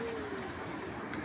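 Giribaz pigeons cooing softly in a loft, a low continuous murmur of overlapping coos close by with no talk over it.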